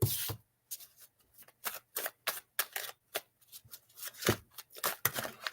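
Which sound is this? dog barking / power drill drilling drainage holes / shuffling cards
shuffling cards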